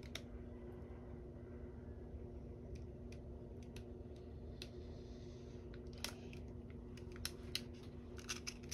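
Cured resin is cut off the edge of a square tray in faint, close, irregular snips and clicks of a blade over a quiet hum, with no voices.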